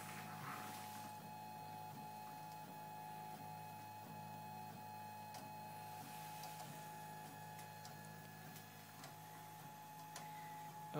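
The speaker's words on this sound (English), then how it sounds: "the machine is still printing." A Mendelmax 3D printer at work, giving off a steady mechanical whine with soft ticking and clicking steps throughout, fairly quiet and continuous, with no voices.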